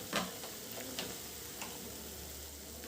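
A gas stove burner just used to cook cauliflower curry gives a steady, quiet hiss with a few light clicks, then cuts off abruptly at the end; no one speaks.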